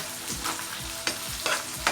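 Small chilies frying with squid in a pan, a dense close sizzle broken by several rhythmic scraping stirs of a spatula; no voices.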